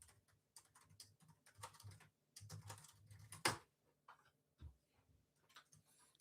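Typing on a computer keyboard, quiet irregular clicks in short bursts with pauses, close and alone in a quiet room.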